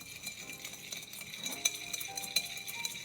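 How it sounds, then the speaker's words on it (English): An OXO whisk blends salad dressing with black pepper and sugar in a bowl for an arugula salad: quiet, quick metallic ticking and clinking against the bowl, alone with no talk. "I really like this whisk."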